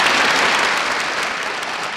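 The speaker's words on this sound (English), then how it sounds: "Let's have a big round of applause for Ms. Adams and Mr. Cox." A big round of audience applause at a high school court event, loud and close, with thick clapping that fades slightly toward the end.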